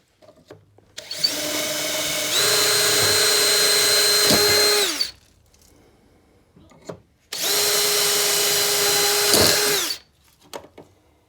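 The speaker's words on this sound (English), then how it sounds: "I put my jig on here and I center it on that right there, and then I can drill my holes" A power drill bores holes through a hardware hole-making jig in two long, steady bursts of whining motor and cutting noise, each lasting a few seconds and separated by a short quiet pause.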